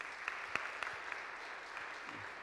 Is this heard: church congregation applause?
yes